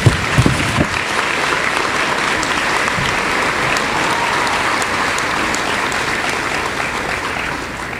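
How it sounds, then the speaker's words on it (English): Steady, full applause from a seated audience at a school convocation honoring award winners, dense and even for several seconds after an initial burst. "Please give all of these award winners another round of applause."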